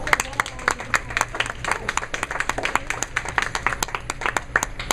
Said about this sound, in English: that's the most applause I've heard all day long out of silent people